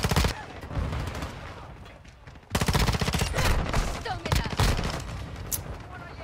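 Rapid automatic gunfire in the video game Modern Warfare II, with dense sustained bursts that break off briefly and then resume, loud and up front.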